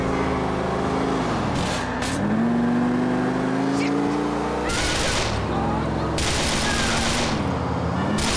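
Rapid bursts of gunfire ring out in Grand Theft Auto IV and repeat in clusters over a droning car engine that rises and falls. A player talks throughout.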